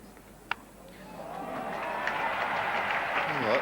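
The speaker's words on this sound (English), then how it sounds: "That brought a cheer from the crowd." Crowd at an Ashes Test cricket match in 1975 cheering and applauding after a short bouncer is hooked over mid-wicket, a broad roar that swells and holds loud, with a sharp clap near the start.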